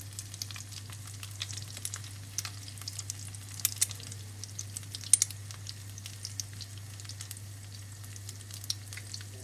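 Green bean and vegetable omelettes sizzle steadily in hot oil in a pan, with a constant crackle and occasional sharper pops, over a low background hum.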